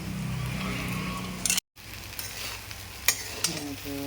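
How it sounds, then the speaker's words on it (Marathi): Poha fries in a kadhai with a soft, steady sizzle and a few clinks and scrapes from stirring, broken by a brief dropout midway, close and fairly quiet. "हे सगळे पोहे आता गेले आहेत कढाईमध्ये"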